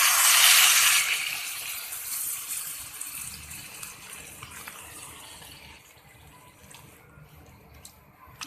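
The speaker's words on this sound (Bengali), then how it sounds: "এখন আমি দিয়ে দিচ্ছি পরিমাণ মতো পানি।" Water pours into a cooking pot holding fried taro, a loud gushing rush at first that softens and thins into a quieter trickle and settling as the pot fills.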